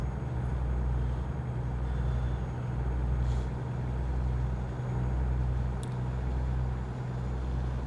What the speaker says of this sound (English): That's the loudest truck. His truck is louder than mine is.